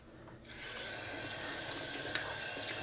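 Cold water runs from a tap over a G-Shock watch as it is washed with mild hand soap, a steady close splashing stream that starts abruptly after a brief quiet moment, with faint clicks of handling.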